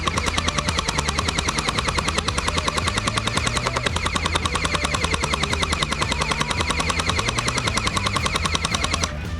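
An XShot Hyper Gel Trace Fire gel blaster fires in a long, rapid, perfectly even stream of sharp clicks, loud and close for the whole stretch with a mechanical whir beneath.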